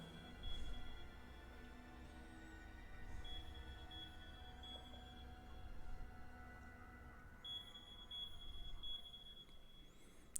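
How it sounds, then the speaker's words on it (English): A carbon monoxide detector alarm sounds as faint, high, intermittent beeps in a quiet room, spaced a few seconds apart over a low background hum. "It's just an alarm."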